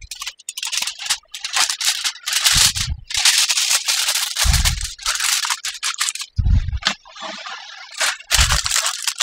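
Crinkly rustling and crumpling close by as foil or parchment is folded over a small fish fillet with lemon slices to seal a packet, in bursts with short pauses.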